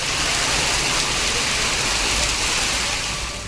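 Heavy rain pours in Uthangarai, Krishnagiri district, a dense, steady hiss of downpour on surfaces that stays loud and even before easing slightly at the end.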